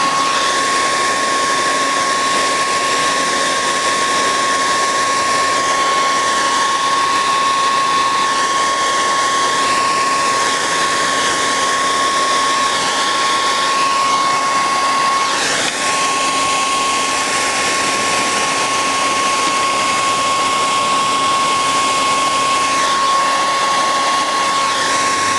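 A heat tool blows hot air to seal a stencil onto an uneven surface, making a continuous, even whooshing hum with a faint steady whine that holds unbroken throughout, close and fairly loud, with no talking.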